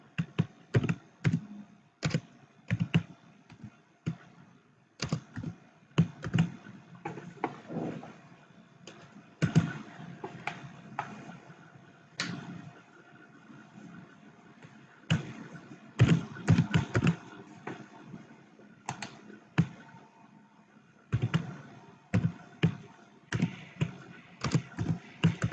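HTML paragraph tags being typed on a computer keyboard, bursts of quick clicky keystrokes in uneven clusters with short pauses between, close and moderately loud.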